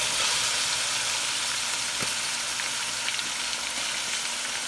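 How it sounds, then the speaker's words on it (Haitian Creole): Haitian spice base (epis) sizzles and fries in a pan with salt cod, a steady close hiss with faint stirring clicks and no talk. "Konya epis lan fin fri, nou pral ajoute moria."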